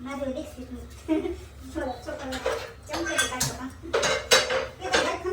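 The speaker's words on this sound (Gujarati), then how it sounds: "એમાં હજી લોટ નીકળશે હું પાડી દઉં ચમચીથી" A spoon scrapes the last bhajiya batter from a bowl, making clinks and scraping knocks against the vessel in uneven bursts, mixed with people talking close by.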